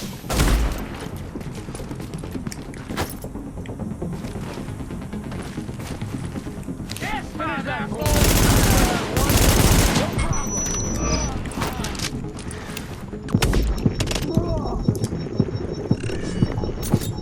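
Snipers and enemies exchange gunfire in The Division, with repeated shots and bursts crackling throughout amid busy game noise. A heavier, louder volley comes near the middle, and a voice talks at times over the fighting.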